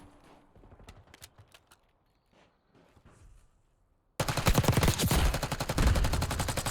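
Dense rapid gunfire erupts in a competitive video game match, loud sustained bursts of automatic shots crowding the second half after a quieter stretch of scattered sounds and faint distant shots.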